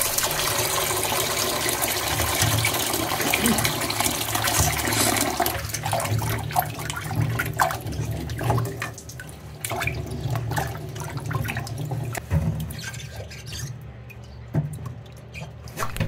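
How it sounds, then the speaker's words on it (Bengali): Amla (Indian gooseberries) being washed in a bowl of water, with steady sloshing, splashing and dripping close by that continues throughout, sometimes louder and sometimes softer, with no talking. "শেষবারের মতো আমলকিকে আমি আরেকবার ধুয়ে নিচ্ছি।"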